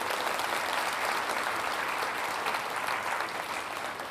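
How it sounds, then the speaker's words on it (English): Steady, dense applause from a keynote audience, even and sustained throughout before easing slightly at the close. "Let's give her another round of applause."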